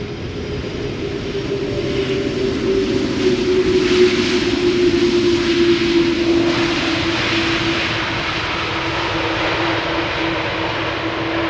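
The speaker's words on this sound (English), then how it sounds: "This one being KLM flight 682, Airbus A388-200 arriving from Vancouver, Canada after 9 hours of flight," A KLM Airbus airliner arriving from Vancouver lands at Amsterdam Schiphol Airport in humid weather, its engines producing a steady, broad roar with a droning whine that swells and slowly eases; fairly loud, with no voices.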